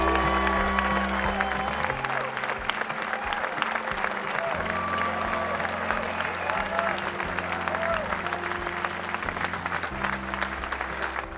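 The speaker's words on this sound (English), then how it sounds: "people started standing and clapping and cheering" Crowd applause and cheering at the unveiling of the Texas Capitol Vietnam Veterans Monument, steady and sustained throughout, with a few voices calling out over the dense clapping.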